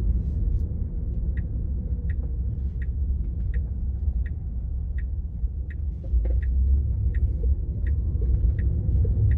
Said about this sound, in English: So that time the car decided just to go.